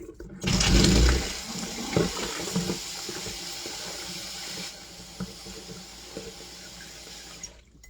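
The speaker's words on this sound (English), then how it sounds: "Let me wash my hands" Hands washed under a running kitchen sink tap, a steady rush of water with splashing and a few clinks, fairly close and continuous, with no one talking.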